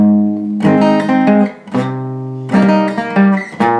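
An acoustic guitar strums the chord sequence of a song, with full ringing chords struck in two clear phrases, each fading briefly before the next strums, close and alone.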